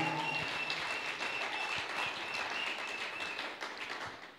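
A church congregation at a restoration retreat applauding to acclaim the Lord, a dense, fairly distant wash of clapping that holds steady and tapers slightly at the end.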